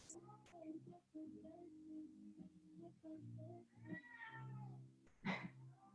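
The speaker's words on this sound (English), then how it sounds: "Cat and dog are having a little meeting outside the door." A cat outside a door meows repeatedly in a string of drawn-out, tonal cries, quiet and somewhat distant, with a few sharper yowls among them.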